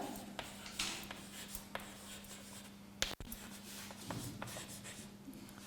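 Students in a political science classroom write notes, with soft scratching of pens on paper and light rustling, a few small knocks and a sharp bump partway through, quiet and close.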